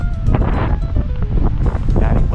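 Strong wind of about 45 km/h buffets the microphone on a small jetty where people fish, loud gusty rumbling with surging bursts and a hint of water nearby.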